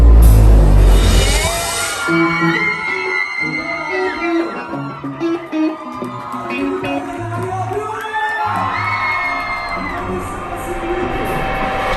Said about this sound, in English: But it's an incredible crowd.